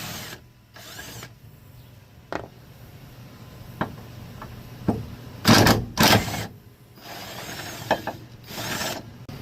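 A hand ratchet wrench clicks in short bursts while loosening the rear sway bar bracket bolts on a 1991 Honda CRX Si, with scattered metallic knocks and clinks between the close, quiet sequences.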